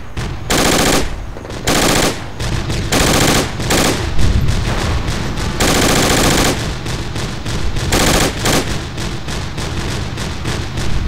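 Dense bursts of automatic rifle and machine-gun fire in the tactical shooter Project Reality, rattling in long loud volleys with brief pauses between them.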